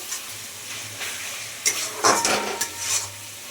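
Ginger-garlic paste frying in oil in a pan for a chicken curry: a soft continuous sizzle with a short burst of louder stirring and scraping near the middle, close up and without talk.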